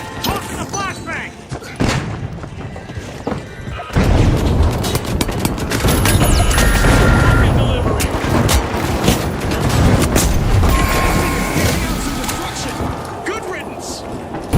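Flashbang grenade blast in a 3D animated Blender fight scene, a loud dense burst of booms and thuds lasting several seconds, layered with game-style effects and voices talking over it.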